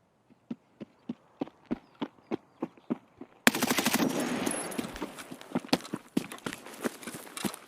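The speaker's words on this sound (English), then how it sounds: "He does see the laser on the left wall, and he takes another shot. But again, just missing." Gunfire in the video game Escape From Tarkov, a run of about a dozen evenly spaced single shots, then a louder, denser burst of rapid shots over a rushing background.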